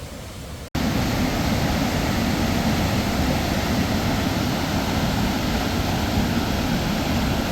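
Dumun Falls in a Seoraksan mountain valley roars as a loud, steady, broadband rush of falling water, continuous and close after a brief quieter moment at the start, with no voices.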